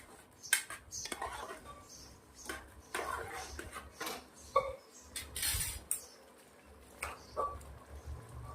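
Chili, salt and tomatoes are mixed into a black-eyed pea and eggplant curry, with quiet scraping, clinking and tapping of a spoon against the pot in irregular bursts, close but faint.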